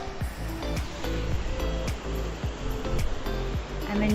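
Ocean waves breaking where a river mouth opens into the sea at Morgim Beach, Goa, a steady broadband wash of surf with repeated swells and a low rumbling undertone, fairly close and continuous, with no talking.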